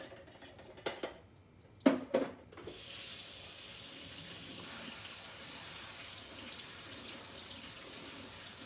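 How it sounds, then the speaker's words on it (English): Tap water runs through cooked pasta in a strainer at a kitchen sink. A few clanks and knocks come first, then a steady, close rush of water pours on alone. "I'm gonna get the water going through it until the water runs clear underneath."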